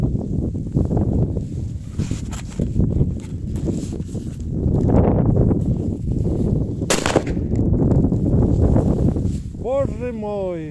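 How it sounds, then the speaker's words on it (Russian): A rifle bullet strikes an RGO hand grenade outdoors, heard as one sharp, loud crack midway through, with a steady rumble of wind or movement and people talking around it. "Вот оно, попадание в гранату."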